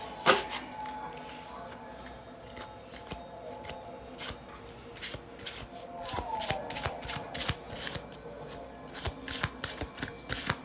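Santa Muerte tarot cards are shuffled by hand in a quiet room, a long run of crisp, rapid riffling flicks and soft slaps, close and fairly faint.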